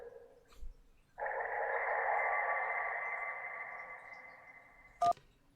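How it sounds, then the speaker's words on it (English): In the video game Kentucky Route Zero, a phone rings underwater: after a faint tone and a soft knock, a muffled, warbling tone swells and holds for about four seconds, then ends in a sharp click. "That was a phone ringing underwater."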